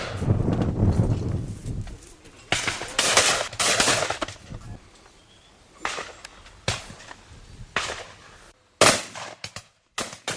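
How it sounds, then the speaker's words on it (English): Shotguns fire at clay targets during a charity team clay shoot outdoors, with a rapid series of sharp, loud reports in quick succession separated by brief gaps, some shots close together. "they've got to shoot as quickly as possible to break as many of the clays as they can"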